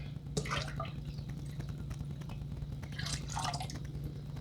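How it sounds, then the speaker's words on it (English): Water runs and drips into a large cooking pot being filled with about 18 cups, a steady low hum beneath splashy bursts near the start and again later, close and moderately loud with no talking. "I've got my biggest pot filled completely with water."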